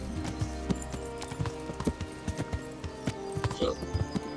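Horse hooves clip-clop in a steady, fairly close rhythm in a medieval video game, with a brief whinny partway through and someone talking over the top.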